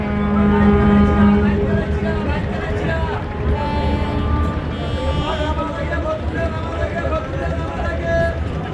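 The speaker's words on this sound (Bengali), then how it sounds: "এদিকে ঘাট প্লেসে আসলো আসা যাওয়া দুই লঞ্চ" Two passenger river launches, including the Pubali 12 on the Dhaka to Patuakhali route, pull in at a ghat. A steady low, horn-like drone rides over deep engine rumble throughout, with people talking nearby.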